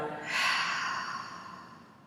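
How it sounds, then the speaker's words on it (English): An audible mouth exhale during a family yoga session, a single soft breathy whoosh that swells quickly, then slowly fades over about two seconds, close to the microphone with no talking. "And exhale through your mouth."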